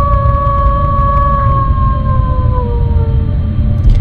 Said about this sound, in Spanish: solo comenzó a escuchar una sinfonía de aullidos.